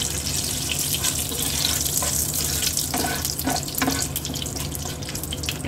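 A bay leaf, two dried chillies, cinnamon and small cardamom fry in hot oil for paneer rezala, giving a close, steady sizzle and crackle with a few louder spits and the scrape of stirring.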